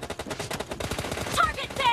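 Rapid automatic gunfire from the mobile battle royale game PUBG Mobile, a steady rattle of bursts through the whole two seconds with faint talk underneath.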